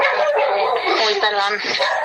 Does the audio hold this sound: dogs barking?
yes